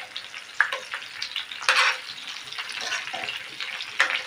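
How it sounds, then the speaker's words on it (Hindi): Stuffed green chillies filled with cooked besan masala fry slowly in a pan over low heat, a soft, steady sizzle with occasional louder crackles as they are turned. "ऐसे ही उलट पलट कर मिर्ची हमें अच्छे से पका लेना है, सब तरफ से पक जाए"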